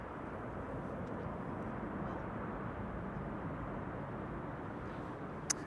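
A Turkish Airlines jet taking off for Istanbul at Amsterdam Schiphol Airport, heard as a steady, broad engine roar that holds at an even level throughout, with a brief sharp click near the end.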